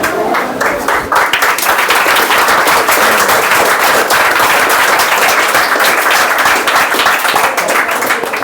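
An audience breaks into loud, sustained applause, dense overlapping clapping that fills the room steadily from start to finish with no one speaking.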